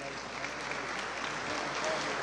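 Steady, dense applause from a forum audience welcoming a speaker at the 2019 Chiclayo industrial forum, sustained at an even level throughout with no voices standing out.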